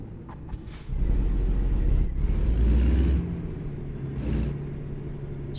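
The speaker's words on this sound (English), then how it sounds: "I love this fucking Kenworth" A custom-built Kenworth truck in a truck simulator game: a deep diesel rumble swells as the engine pulls, with sharp hissing air-brake bursts, one early, one in the middle and another toward the end, and no talking.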